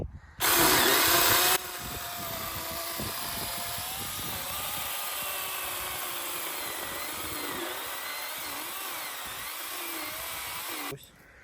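A hand-held power saw whines steadily as it cuts through a thick garden tree branch, starting with a loud burst and then running continuously before stopping.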